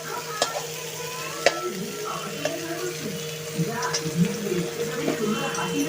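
Lightly reddened fried onions pushed to the side of a pan for a mutton dish, with a steady soft sizzle, scattered spatula scrapes and clicks, and a voice talking under the frying.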